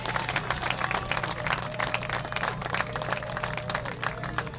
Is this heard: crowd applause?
yes